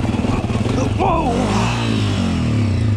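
Enduro motorcycle revving hard while popping a wheelie uphill on a rough trail, a loud close engine rising in pitch, with the rider's voice mixed in.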